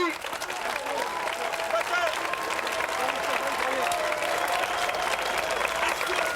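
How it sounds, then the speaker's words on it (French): Extras on a French film set applauding on cue during a scene, sustained crowd clapping with scattered voices and shouts mixed in throughout. "on applaudit"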